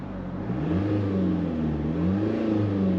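A Mercedes-Benz E300d Cabriolet diesel engine revs hard and close to its 3,500 rpm soft limiter, climbing and dropping several times in a steady rise-and-fall pattern, with no talking.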